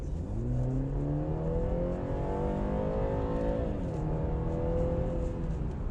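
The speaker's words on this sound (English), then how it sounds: "Okay, so what happens when I floor it?" A 2019 BMW 3 Series engine accelerating hard at full throttle, heard from inside the cabin as a steady, loud drone whose harmonics climb in pitch, dip briefly at a gear change, then rise again, with no talking.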